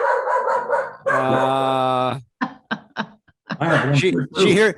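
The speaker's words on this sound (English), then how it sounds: "let me see if I can get the dog quieted." A dog barks in quick bursts, loud and close, then yips and whimpers in shorter calls, with a voice talking between the barks.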